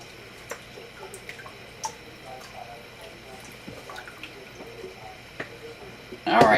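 Broth drips from draining cooked bones in sparse, irregular drops, soft and close, each a small distinct plink, ending in a louder splash.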